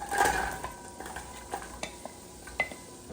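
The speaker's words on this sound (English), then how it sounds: "I'm going to saute this until they are, you know, sweated a little bit" Vegetables sautéing in four tablespoons of butter for chicken and dumplings, a faint steady sizzle broken by a few light clinks and scrapes of a utensil against the pot, close and quiet, no speech.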